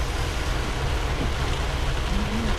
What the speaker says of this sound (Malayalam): അപ്പോൾ നല്ല മഴയുണ്ട് ഇവിടെ